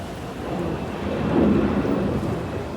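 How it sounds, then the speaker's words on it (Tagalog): Sudden steady heavy rain pours down in a dense, continuous wash ahead of a typhoon, with a low rumble of thunder swelling midway and fading slightly toward the end. "Biglang bumuhos yung malakas na ulan."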